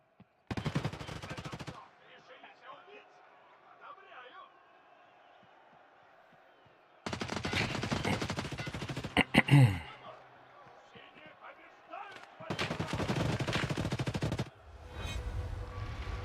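Bursts of video game gunfire in a looter-shooter style match, several loud sustained volleys separated by quieter stretches, with a voice talking in between.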